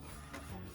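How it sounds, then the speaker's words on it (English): An Epson 1430 printer printing onto roll film gives a steady, dense mechanical whir and rustle, close and continuous for under a second. "Now we're printing"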